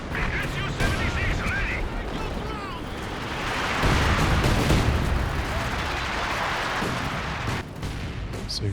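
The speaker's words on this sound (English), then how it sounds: "these Katyushas have been doing well. Quite a few creeping barrages." Katyusha rocket creeping barrage in Company of Heroes 2, a dense rumbling roar of artillery and rolling explosions with scattered gunfire, loud and continuous under a commentator's voice.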